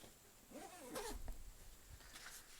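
Zippers on a Slinger Bag tennis ball launcher bag slide open in a couple of quick, smooth rasping pulls at close range, with no talking.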